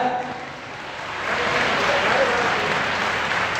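Loud applause for a student at an educational complex prize distribution in Shirdi, starting lighter and swelling into a dense, steady crowd of clapping that holds to the end.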